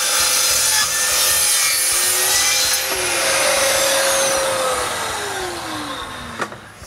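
A saw cuts the base of a wooden dovetail on a roof truss during shop construction, with steady back-and-forth rasping strokes, close and loud, plus a falling whine as the blade works through the wood.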